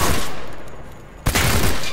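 Automatic rifle fire in S.T.A.L.K.E.R. Anomaly, loud and close: a sustained rattling burst, then a brief dip and a second hard burst right after, with no talking.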